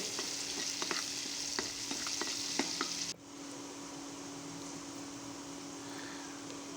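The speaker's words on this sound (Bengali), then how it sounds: "এবার এগুলিকে নেড়ে চেড়ে একটু ভেজে নেবো" Chopped onion and bay leaves fry in a pan with a steady sizzle, punctuated by several sharp scrapes of a spatula stirring them; midway the clinks stop and a softer, even frying hiss continues alone.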